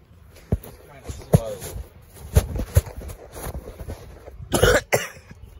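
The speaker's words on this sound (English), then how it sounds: "I just had to clear my throat." Several sharp, close throat-clearing coughs come in quick bursts, with shuffling movement and thumps between them and a louder cluster near the end.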